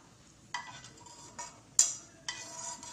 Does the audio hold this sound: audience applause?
no